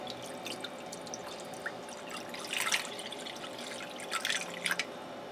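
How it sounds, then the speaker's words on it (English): Water poured into a Copper Chef XL pan around a stuffed pepper meatloaf, heard as a soft, steady trickle with light drips and a couple of brief louder splashy bursts near the middle and end. "Alright, now I'm going to add water in here."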